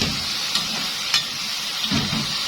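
Cubed liver and gizzards are stirred while frying over high heat: a constant close sizzle with soft scraping and tossing sounds recurring every half second or so, and no talk.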